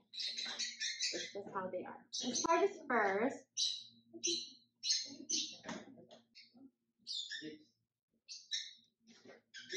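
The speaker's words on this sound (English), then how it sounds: "Sorry about my birds, if it's too noisy." Pet birds kept indoors squawk and chirp in short, repeated bursts throughout, moderately close, while a person talks over and between the calls.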